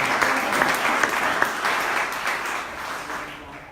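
A church congregation breaks into sustained applause, a dense wash of many hands clapping close and loud, easing off gradually toward the end.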